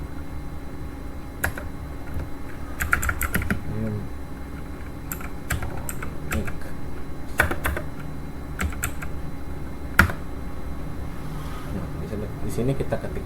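Sparse clusters of keystrokes tap on a computer keyboard as network commands are entered, irregular clicks with pauses between them, while a voice speaks intermittently under a low background hum.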